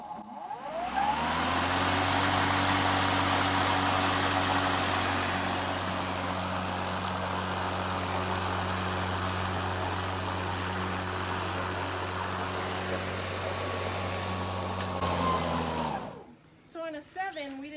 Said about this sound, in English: I'll probably up the speed on the mower this time to a little bit faster